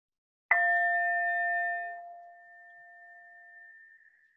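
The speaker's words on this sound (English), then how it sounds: "And Sandy, if you'd ring the bell" A single meditation bell is struck once to open a shared breathing pause, its clear ringing tone sustaining and slowly fading for several seconds in otherwise silent surroundings.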